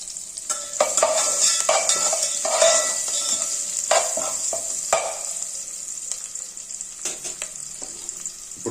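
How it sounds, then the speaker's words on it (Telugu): Green chillies and turmeric frying in hot oil for carrot rice, making a bright, crackling sizzle with repeated stirring scrapes and spatula taps at close range, without talking. "ఇవి కూడా నూనెలో చక్కగా వేపండి."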